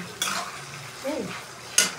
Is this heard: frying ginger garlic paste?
yes